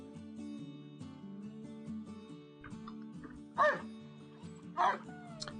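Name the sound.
person imitating dog barking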